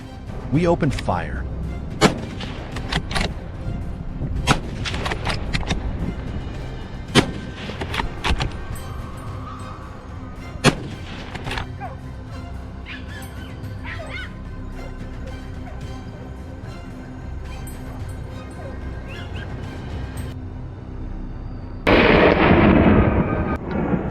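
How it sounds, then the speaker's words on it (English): Gunshots aimed at wild boars on a Texas farm crack out one after another through the woods, sharp reports scattered over a busy, rumbling background, ending in a burst of loud rustling noise. "Gunshots rang through the forest"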